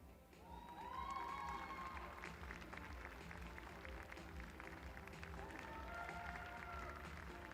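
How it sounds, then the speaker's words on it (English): Audience applause at a Guernsey cattle show after junior champion placings, steady clapping spread through a large show ring with crowd murmur and some background chatter underneath, lasting several seconds. "please give him a big round of applause"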